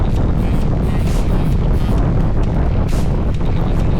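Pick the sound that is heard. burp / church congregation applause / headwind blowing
headwind blowing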